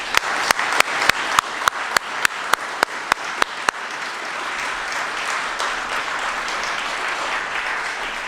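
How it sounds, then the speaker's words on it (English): Audience applause at the 2018 Order of Prince Edward Island ceremony honouring award recipients, opening with a run of sharp, evenly spaced loud claps that swell into a sustained, crowded wave of clapping. "Please give them a round of applause"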